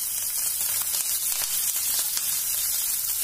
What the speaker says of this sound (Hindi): तेल गरम हो गया है। अब इसमें थोड़ा सा जीरा डालूंगी, फिर हरी मिर्च डालूंगी